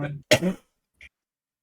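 A single sharp sneeze bursts out close by during casual chat among players, right after a stretch of talking, followed by a brief faint noise and silence.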